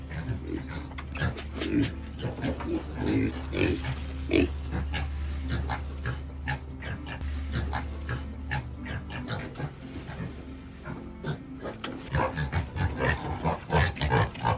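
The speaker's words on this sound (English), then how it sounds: "now the others are going crazy because they want their food. Hi, hungry pigs." Hungry pigs in a barn at feeding time squeal, grunt and oink in a dense, busy chorus, with a low steady hum underneath and a person talking over them at times.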